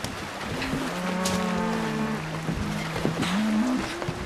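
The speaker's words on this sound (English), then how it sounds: "Can't you hear those cattle bellowing?" Cattle below decks on an eighteenth-century sailing ship bellow in long, low, drawn-out moos, several calls overlapping and fairly close over a dull background murmur.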